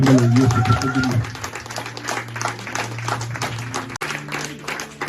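A congregation claps and cheers together during a Sunday thanksgiving church service, a dense, steady wash of applause that stays loud throughout, with a voice rising over it at the start.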